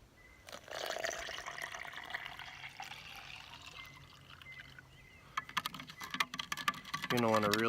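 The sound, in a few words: stirring orange drink powder into water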